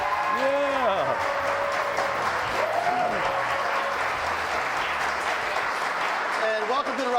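A studio audience at a Buffalo radio-TV talk show applauds and cheers steadily, a loud sustained wash of clapping with a voice speaking over it near the start and end.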